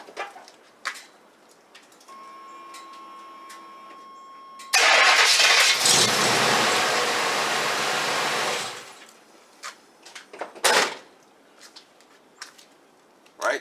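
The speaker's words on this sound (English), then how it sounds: "This thing starts right up." A 1989 Chevy K5 Blazer engine cranks and catches, roaring loudly for several seconds before settling back, with quieter clicks and handling noises around it and no talking.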